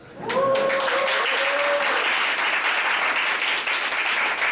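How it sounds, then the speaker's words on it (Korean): Audience at a talk concert breaking into applause that swells quickly and holds as a steady, full wash of clapping, with a brief voice at the start. "제가 좀 잘못할 때는 박수로 좀 도와주세요"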